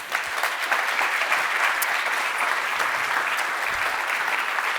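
An audience at an artificial intelligence ethics meetup in Vienna applauds steadily as a guest is welcomed on stage, a dense, continuous wash of clapping with a few sharper claps standing out.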